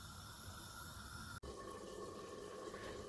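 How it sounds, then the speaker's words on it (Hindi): Water is poured into a pot of achar gosht as it cooks, a continuous faint rushing splash with a brief break midway. "थोड़ा सा पानी और डाल के उसको दोबारा गलने के लिए रख दें"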